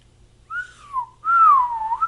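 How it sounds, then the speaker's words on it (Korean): A man whistling two sustained, wavering tones separated by a brief pause, the second longer and louder, close and clear with no talking. "제가 이렇게 휘파람을 불면은"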